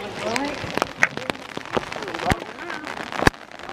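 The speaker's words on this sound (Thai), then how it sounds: "ฝนตกมากเลยนะคะตอนนี้" Heavy rain pours down in Macau, a dense continuous patter with scattered louder drops and crackles close by, while someone talks over it.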